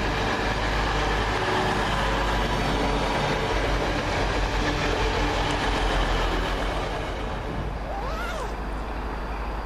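Passenger train running through East Didsbury station, a loud continuous rumble and rolling rail noise close by, steady throughout with faint wheel squeal near the end.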